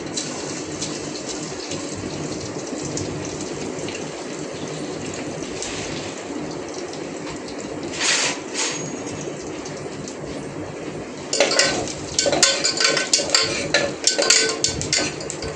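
Cinnamon and fennel seeds sizzle in hot oil with a steady, bright crackle that grows louder and more spattery toward the end. No one speaks.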